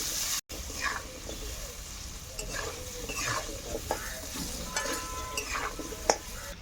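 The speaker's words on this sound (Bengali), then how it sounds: "লাল লাল করে ভেজে নেব।" Soybean chunks, potato and egg frying with salt and turmeric in a pan, stirred steadily so a soft continuous sizzle runs under scattered scrapes and light clinks of a spatula against the pan.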